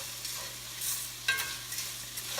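Noodles going into a pan of frying hamburger and onion with seasonings: a steady soft sizzle with a brief stirring scrape partway through, no voices.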